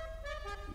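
Car horn honking in GTA Online, a steady sustained tone held for under a second, loud and close with no talk over it.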